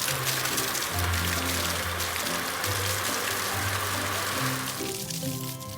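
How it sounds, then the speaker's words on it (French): In a cartoon, a water tanker truck sprays water to wash foam off a car, a steady rushing hiss over bright, bouncy music that fades near the end. "Le camion citerne enlève la mousse."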